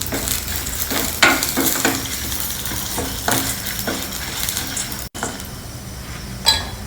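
Fenugreek (methi) seeds fry in hot oil in a pan while making South Indian sambar, giving a steady close sizzle with a few sharp clinks and stirring scrapes, with no talking.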